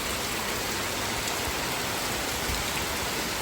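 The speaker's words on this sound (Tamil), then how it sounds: "காலையிலேருந்து விடாமல் மழை பெஞ்சிட்டு இருக்கு." Steady monsoon rain in Chennai falls and patters on surfaces, a dense even hiss with no let-up.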